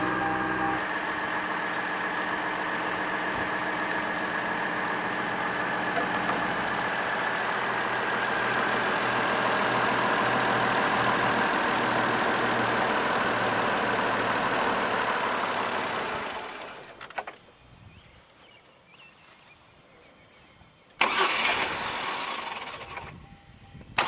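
2003 Chevrolet Trailblazer engine starting and idling steadily for about sixteen seconds, a loud continuous hum that then cuts out, leaving faint background noise before a brief loud burst near the end.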